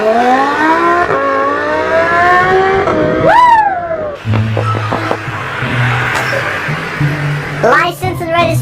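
Car engine revving loudly while driving in a public area, rising whines sweeping upward and falling, with gear shifts and a roar near and loud, a person talking over parts of it.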